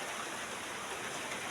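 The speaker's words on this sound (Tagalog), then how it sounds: "At ang araw na ito ay tag-ulan." Steady rain falls on a rainy day in the provinces during a low-pressure area, a dense even hiss with no distinct drops, constant and fairly close, with no voices.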